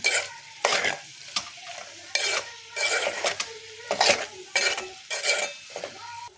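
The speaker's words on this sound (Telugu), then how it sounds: "పసుపు వేసిన కారం వేసి కలుపుతాను." A spoon stirs turmeric and chili powder into a curry in a pan, making about eight rhythmic scraping strokes against the metal over a faint simmer, close and clear, with no talking.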